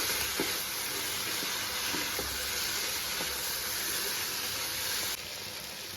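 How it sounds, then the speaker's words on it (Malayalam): Chicken being stirred into a pan of hot masala for Buhari chicken biryani, giving a steady, close, broadband sizzle and hiss with occasional soft stirring scrapes, heard on its own without talk. "ഇതിലേക്ക് നമ്മൾ തയ്യാറാക്കി വെച്ചിട്ടുള്ള ചിക്കൻ ചേർത്ത് കൊടുക്കാം. ഒന്നുകൂടി ഇളക്കി യോജിപ്പിക്കാം."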